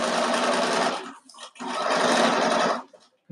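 A sewing machine stitches pineapple quilt blocks in two quick runs, a fast mechanical whir broken by a short pause and ending in near silence, loud and close with no voices.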